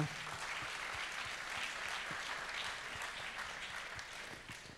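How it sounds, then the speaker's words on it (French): Steady audience applause at an awards ceremony for housing and local-territory trophies, a dense wash of many hands clapping that holds loud and even for nearly five seconds before easing slightly at the end. "Et on les applaudit bien fort, tous les 4."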